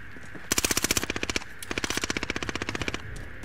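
Video game gunfire rattles out as two loud, rapid automatic bursts, each roughly a second long, with a short gap between them.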